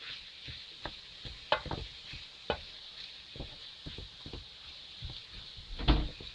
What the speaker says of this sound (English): I'll leave it to saute for about 2 minutes